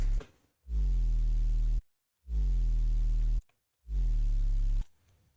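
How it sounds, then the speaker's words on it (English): Three Serum synth 808 bass notes built from an analog sine wave with added harmonics, slight upward pitching and soft clipping, each a deep sustained boom with a gliding pitch drop, heard alone with brief gaps between them. "So just the serum patch sounds like this."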